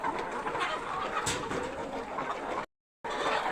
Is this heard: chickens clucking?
yes